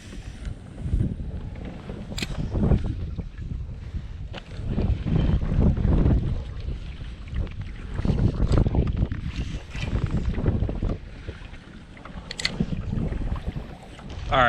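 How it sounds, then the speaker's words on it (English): Strong wind gusts on a lake during winter fishing from a boat, heavy low rumbling buffeting on the microphone that swells and eases in waves, with a few faint knocks and no talking. "Try to get out of this wind a little bit"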